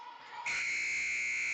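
A loud electronic buzzer sounds at a high school volleyball match, a sustained harsh high-pitched tone that starts abruptly after a quieter hum and holds steady to the end.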